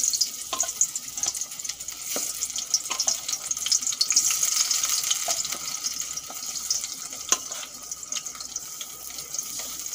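Eggplant slices sizzle and crackle steadily in hot oil in a frying pan, close and continuous, with occasional sharp pops and stirring.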